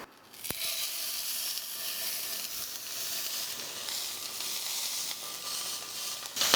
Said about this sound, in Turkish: Haydi bakalım balığı tavaya gönderiyoruz.